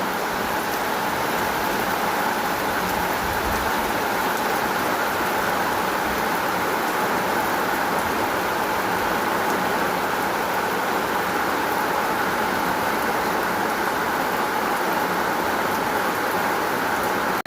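Heavy, continuous downpour of rain hissing steadily and loudly throughout, a dense unbroken wash with no pauses and no voices.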